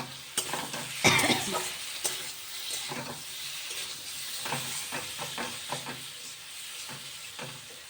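A ginger and chilli spice paste fries in oil, sizzling and hissing up close, with a sharp burst of spitting near the start and intermittent scraping stirs throughout.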